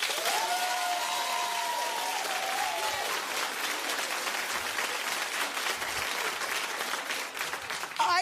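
A television talk-show studio audience claps loudly and steadily in a dense, sustained burst of applause lasting the whole stretch, with a few brief voices near the start and no break.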